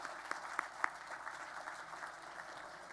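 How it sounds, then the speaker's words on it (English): Audience at a university awards event applauding for Gloria, a short burst of scattered clapping with a few sharp, distinct claps up front, then a softer, quieter patter that fades. "how about a round of applause for Gloria"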